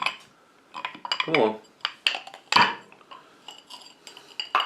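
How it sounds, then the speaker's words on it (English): A big square ice cube is dropped into a glass while mixing a bacon-infused bourbon Old Fashioned, giving a few sharp clinks and knocks of ice on glass with a short remark spoken over them. "Ice cube in the glass."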